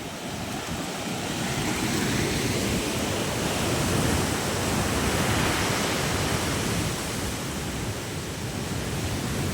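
Strong sea water surging into a beach hut (kubo) makes a loud, steady, broadband rush that churns without pause at close range, with no voices.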